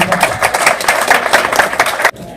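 An audience applauding a mother at a Celebrating Moms of All Ages event: dense, steady clapping from a crowd filling the room for about two seconds, then cutting off abruptly.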